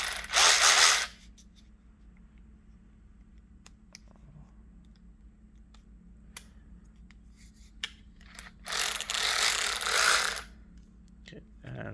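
A TACKLIFE cordless power ratchet whirs in two loud, close bursts of about a second each, one at the start and a longer one near the end, with quiet clicking and handling between them.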